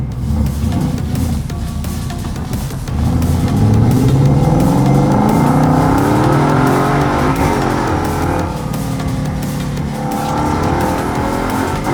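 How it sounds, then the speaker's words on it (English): A Mustang driven hard, its engine revving and climbing in pitch while the tires squeal and skid continuously, loud and close with no talk over it. "So this car runs actually really good. As you can see, I can push it to the limit"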